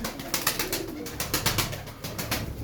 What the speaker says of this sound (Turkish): Şurada bir ayna kuyruklu kuşumuz var yine.